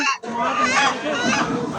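Live chickens at a poultry market in Saudi Arabia give a loud, close, harsh squawking cluck that runs without a break after a brief sound at the start, with market voices around it.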